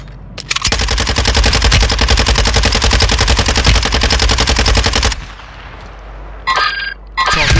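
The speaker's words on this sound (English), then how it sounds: "Taking fire!" Sustained automatic machine gun fire in the shooter Call of Duty Warzone rattles in a loud, rapid, close burst lasting several seconds, followed by quieter game sounds and a short electronic blip.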